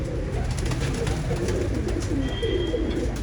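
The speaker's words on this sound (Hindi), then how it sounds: "बहुत ही शानदार कबूतर है माशाल्लाह।" Pigeons in a loft coo in low, rolling throaty calls, several birds overlapping continuously and close by, with faint chirps above.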